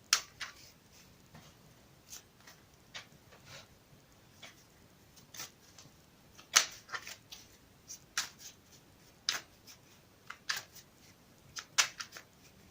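Quiet, scattered papery snaps and riffles of a Radiant Rider-Waite tarot deck being shuffled by hand, irregular bursts close to the microphone with near silence between.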